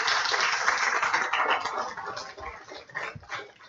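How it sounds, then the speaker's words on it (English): Audience applause for the toppers at a UPSC seminar in Bengaluru: a steady, dense wash of clapping from a crowd, fairly loud and sustained, thinning slightly toward the end. "Let's give them a big round of applause."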